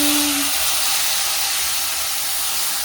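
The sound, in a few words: tomato frying in a pan with ginger, garlic and chili paste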